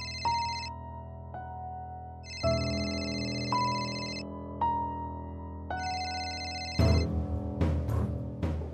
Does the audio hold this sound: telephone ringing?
yes